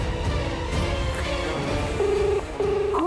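A telephone rings unanswered over a TV drama's background music, with steady electronic tones near the end of the ringing.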